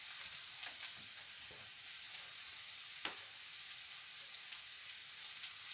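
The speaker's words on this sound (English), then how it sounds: "Stir it around so it doesn't burn or stick to the pan." Frozen jackfruit frying in a pan gives a steady, quiet sizzle, broken by a few soft scrapes and taps as it is stirred. No voices are heard over it.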